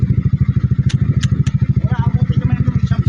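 A motorcycle idles close by with a rapid, even thumping beat. A few sharp clicks and a faint murmur of voices sit over the engine.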